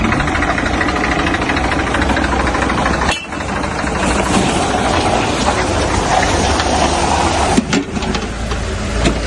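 A tractor engine runs steadily in the foreground at an outdoor roadside spot in Anjanapura, a continuous loud rumble with a brief dip partway through.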